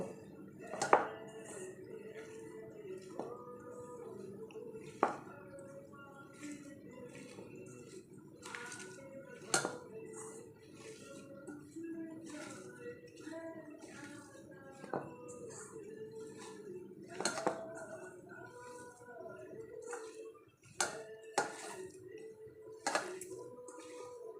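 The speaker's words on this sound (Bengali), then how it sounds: "এখন এটা ভালো করে মেখে একটা স্টাফিং তৈরি করব" Spiced stuffing with asafoetida mixed by hand in a bowl, giving soft squishes and scattered sharp clinks against the bowl, close and fairly quiet, with a faint voice at times.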